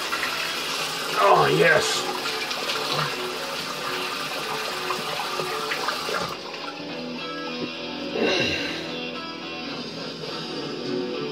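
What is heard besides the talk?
water running from tap while rinsing after a shave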